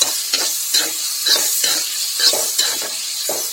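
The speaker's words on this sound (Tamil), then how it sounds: "அதை வதக்கிக்கிறோம்." Onion, tomato and green chilli are sautéed in a pan for paneer bhurji, with a spatula scraping in a rhythmic series of strokes over a steady sizzle, loud and close with no talking.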